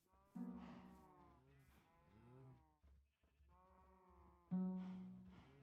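Minecraft cows and sheep call in turn on a farm, several drawn-out moos and bleats, close and clear, with short pauses between them.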